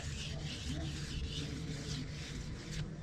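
Steady, continuous rasping of hand sanding on a car body panel, close by and fairly even, with back-and-forth strokes and no talking.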